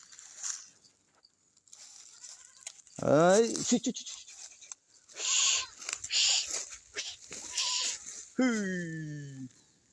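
Village goats give two or three wavering bleats from fairly close by, spaced apart among quiet stretches, with a person talking in between.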